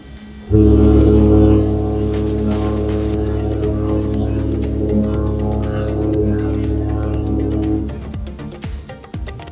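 Cruise liners, including the AIDAdiva on a Norway cruise, exchanging deep horn blasts. A loud, low, sustained blast starts suddenly and holds for several seconds over outdoor ambience, then fades out with scattered background noise.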